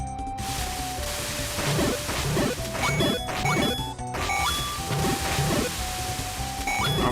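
A regular bomb in the Zelda Classic game bursting with crunchy, crashing impacts, repeated several times over chiptune music tones.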